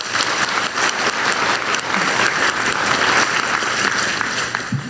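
Audience applause at a Korean government investment ceremony for regional high-tech industry, a dense, loud, even burst of many hands clapping that holds steady throughout with no speech.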